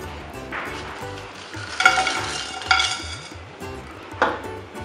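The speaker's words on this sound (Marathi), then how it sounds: "हा जो गरम मसाला आहे तुम्ही हलकासा त्याच्यावरती रोस्ट करून घेतो." Whole garam masala spices, including mace, are dry-roasted and stirred in a pan over low flame, with a soft continuous rustle and scrape broken by a few louder clinks of the utensil.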